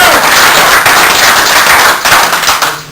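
TriMet employees give loud, sustained applause at a board meeting, a dense wash of many hands clapping close by that carries on without a break.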